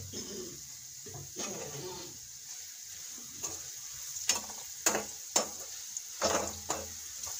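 Green chillies frying in a pan with a pinch of turmeric powder, a steady faint sizzle broken by sharper scraping stirs that grow more frequent toward the end.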